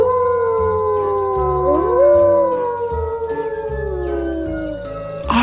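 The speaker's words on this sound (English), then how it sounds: "there was a group of jackals who were howling at a distance" A group of jackals howls together, several long overlapping howls rising and falling in pitch, loud and sustained, ending with a brief burst of noise.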